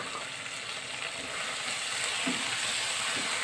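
Anchovies and papaya leaves stir-fried in oyster sauce give a steady, close sizzle and frying hiss, with light scraping of the stirring spoon rising slightly toward the end.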